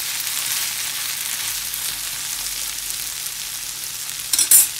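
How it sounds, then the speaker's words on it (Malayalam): Chicken wings fry in a pan with a steady, close broadband sizzle, then a short burst of spatula stirring near the end. No voices. "ഇനി ഒന്ന് ഇളക്കിയിട്ട് ആ സോഫ്റ്റായി ഉണ്ടാവും ചിക്കൻ"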